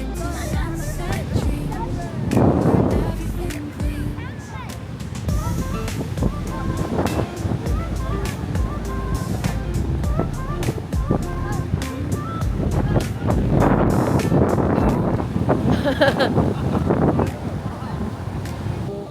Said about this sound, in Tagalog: Mahangin siya tapos yung yung wave is medyo malakas